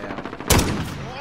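A single loud Dragunov sniper rifle shot rings out in a video game, a sharp sudden burst followed by a fading tail, with faint game sounds around it.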